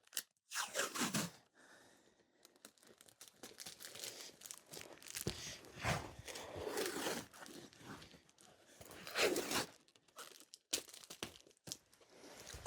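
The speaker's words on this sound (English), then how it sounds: "a little bit of tape to secure it" Packing tape pulled from the roll and wrapped around a tightly rolled rug, crinkling, tearing rips and rustling in irregular bursts, close and moderately quiet.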